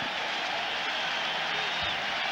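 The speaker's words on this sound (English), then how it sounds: "a very enthusiastic crowd" Enthusiastic crowd applauding at Riverfront Stadium during a 1995 Jacksonville Jaguars at Cincinnati Bengals football game, a broad, steady wash of clapping and crowd noise, even in level throughout.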